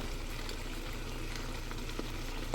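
Homemade ghee sizzling as it goes into a pan of mixed food, a steady, even frying hiss held at close range with no talk.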